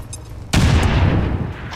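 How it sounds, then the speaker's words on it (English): A single loud frag grenade blast in a tactical alien-war battle, erupting suddenly after a quiet moment and rumbling off over the next second. "Frag out! All right, hit him with a grenade."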